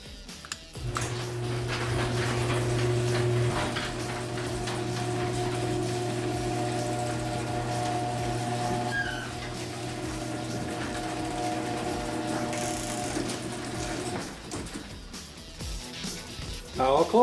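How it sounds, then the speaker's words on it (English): A Chamberlain motorized garage door opener hums and rumbles steadily for about thirteen seconds as the door travels, then stops, leaving quiet room noise. "I'll go ahead and show you how the garage door works"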